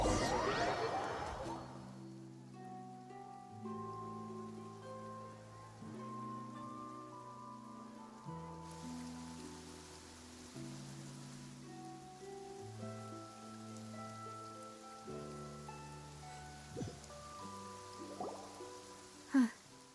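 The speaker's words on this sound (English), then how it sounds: "It's been raining non-stop for a few days now." Steady rain patters through a rainy Genshin Impact game scene, a soft continuous hiss sitting beneath sustained music tones, with a few sharper knocks near the end.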